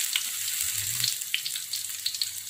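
Blended spice paste for cassava-leaf gulai sizzling and frying in hot vegetable oil, a steady close hiss with small crackles and pops throughout, no talking.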